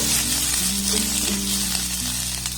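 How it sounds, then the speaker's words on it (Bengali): Two kinds of onion fry together in a pan, making a loud, dense, unbroken sizzle with faint stirring scrapes underneath, close and constant throughout. "এবার এই দু রকম পেঁয়াজ একসাথে একটু নাড়াচাড়া করে আমি ভেজে নেব"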